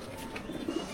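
A racing pigeon gives soft, low coos close by, a short murmuring call rising near the end against quiet background hiss.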